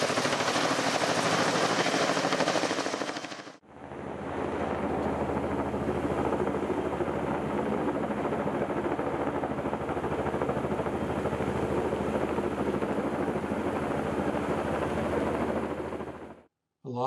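A Vertol heavy-lift helicopter carrying logs for placement on a woodland property roars with a loud, steady rotor and engine drone, cut by a brief dip in the opening seconds before continuing strongly and stopping abruptly near the end.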